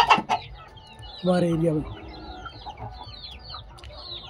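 Desi free-range chickens on a poultry farm cluck and call briefly, with a rooster-like call mid-clip amid faint outdoor birdsong; someone speaks briefly.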